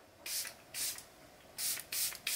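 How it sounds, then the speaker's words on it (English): Five short hissing bursts of Charlotte Tilbury Airbrush Flawless Setting Spray, misted in quick succession at close range with brief pauses between them. "give a good spray of the Charlotte Tilbury Airbrush Flawless Setting Spray"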